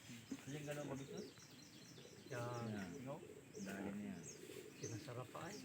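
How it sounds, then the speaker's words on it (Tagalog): Pigeons coo in soft, repeated rolling calls close by, with chirps and faint background noise between the phrases. "Yan mga kalapatids, yung all bird natin."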